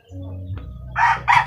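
A rooster crows nearby, a loud two-part call rising sharply after a short low murmur.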